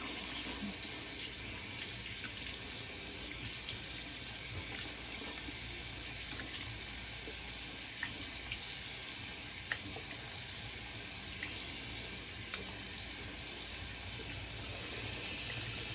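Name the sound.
tap running for cold water rinse while shaving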